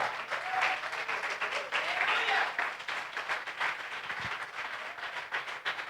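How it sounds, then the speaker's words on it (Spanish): A Pentecostal church congregation applauds the Lord after a sermon, a moderately loud wash of clapping with a few voices mixed in underneath. "Dar un aplauso al Señor."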